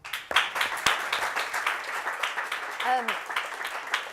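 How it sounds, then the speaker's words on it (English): An audience at a children's first aid lesson applauds a guest, a continuous patter of clapping with voices and a brief cheer mixed in. "Can we have a round of applause for Tony?"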